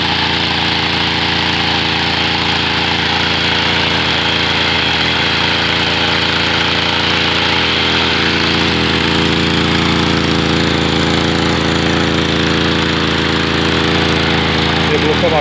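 A flooded brush cutter engine, just started, runs steadily at a rough, buzzing idle for the whole stretch, close and loud, with no real change in pace.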